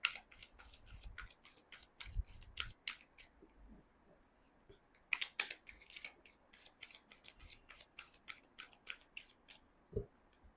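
Tarot cards shuffled and handled during a reading, a run of crisp, close snapping riffles and flicks in quick bursts with short pauses between them.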